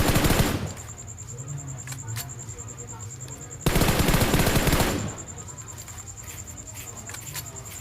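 Rapid automatic M4 rifle fire in the mobile battle royale game PUBG Mobile, solo versus squad, a sharp burst at the start and another heavy burst midway, with fainter game ambience between.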